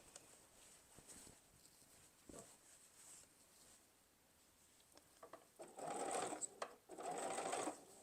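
A sewing machine stitches binding onto a quilt in two short runs of steady whirring near the end, after soft handling noises and fabric shifting.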